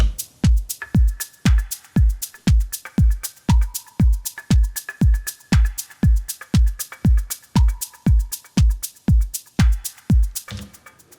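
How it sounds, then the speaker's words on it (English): Punchy electronic kick drums from an Elektron Digitone thump in a steady four-on-the-floor beat with crisp offbeat hi-hats, rim, claps and a plucky synth layered over it, loud and continuous. "these offbeat hi-hats and the rim and the plocky sounds layering every second clap"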